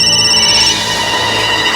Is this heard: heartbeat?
no